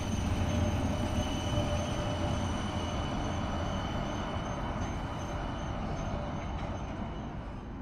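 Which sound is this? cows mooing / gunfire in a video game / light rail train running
light rail train running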